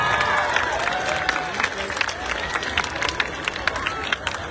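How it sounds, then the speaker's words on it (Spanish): Concert audience applauding couples at a show, a broad wash of clapping and crowd noise with scattered louder claps and faint voices in the background. "Le damos un aplauso a las parejas"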